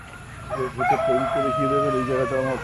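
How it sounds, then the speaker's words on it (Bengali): An aseel breed fighter rooster in a farm setting crows close by, loud, with a long wavering call that runs for about two seconds. A faint murmur sits underneath. "এগুলো সব হাসিল প্রজাতি ফাইটার মুরগি"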